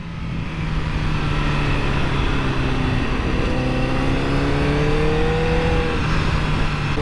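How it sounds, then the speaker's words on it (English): A 2008 Honda CBR1000RR sportbike roars steadily while being ridden, the engine note climbing and shifting through revs under constant wind rush, close and loud throughout. "the engine's roaring"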